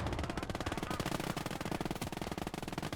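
Rapid, dense MG42 machine-gun fire in the World War II game Gates of Hell, a continuous ripping stream of shots with overlapping bursts filling the whole stretch, loud and close.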